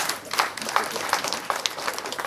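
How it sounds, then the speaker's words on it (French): Guests at a donation ceremony at a seniors' home in Brazzaville clapping, a moderate crowd of hands with distinct individual claps ringing out over a softer bed of applause. "On applaudit très fort."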